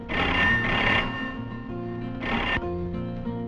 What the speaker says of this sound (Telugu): అరుణ్కి ఫోన్ చేయాలా?